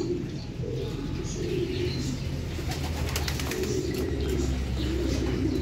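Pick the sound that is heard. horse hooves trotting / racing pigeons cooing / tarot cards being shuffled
racing pigeons cooing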